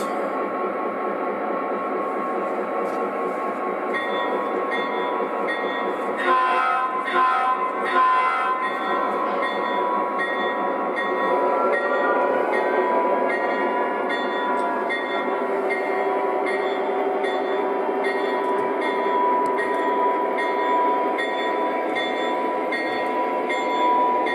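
An O gauge model GP30 diesel locomotive runs continuously with a steady motor whir and rattling wheels, plus a cluster of clicks and clunks partway through.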